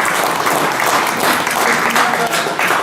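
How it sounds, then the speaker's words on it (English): Wedding guests break into loud, dense applause during a reception speech, a full close wash of many hands clapping that stays steady for about three seconds, with faint chatter mixed underneath. "deserves a round of applause for that guy"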